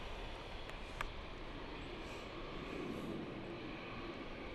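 A passenger jet, an Embraer or JAL airliner, rumbles at London City Airport as a faint, distant, steady roar with a couple of brief clicks near the start and no talk.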